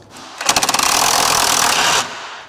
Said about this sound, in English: Let's get a socket on here and run it down a little bit.